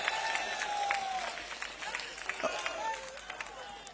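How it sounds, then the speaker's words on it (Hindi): Crowd at an outdoor election rally in Raniwara breaking into applause and cheering, a dense continuous wash of clapping from many people with a voice over it. "जोर से ताली बजाइए नारायण सिंह के लिए।"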